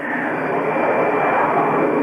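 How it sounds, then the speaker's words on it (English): A classic jet aircraft roars steadily overhead at an airshow, a broad, loud rushing engine noise that stays constant throughout. "Beautiful aeroplane."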